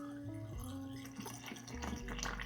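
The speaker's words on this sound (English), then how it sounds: "we're gonna add distilled water" Distilled water pours steadily into the cooling system of a turbocharged Honda Civic, a soft continuous liquid trickle with faint gurgling, fairly quiet and close, with no talking.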